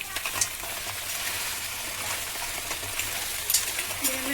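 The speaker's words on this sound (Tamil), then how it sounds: "எண்ணெயில் நல்லெண்ணெயில் அப்படியே நல்லா போட்டு கிண்டணும் எல்லாத்தையும் ஃப்ரை பண்ணால் தான் நல்லா டேஸ்ட்டாக இருக்கும்" Ingredients fry in sesame oil while being stirred for a spicy crab gravy: a steady, moderately quiet sizzle with occasional scraping stir clicks and no talking.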